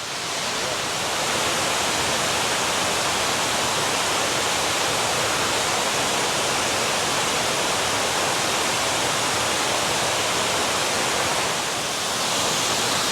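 Erie Falls, a waterfall on the Falls Trail at Ricketts Glen State Park, roars as a steady, dense wash of falling water, loud and unbroken for the whole stretch with no voices.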